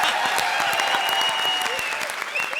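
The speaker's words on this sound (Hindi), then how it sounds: "जोरदार तालियां हो जाएं" Studio audience at a Hindi TV comedy show, Comedy Circus, breaks into loud, sustained applause that holds steady for the whole stretch, with faint musical tones ringing through the clapping.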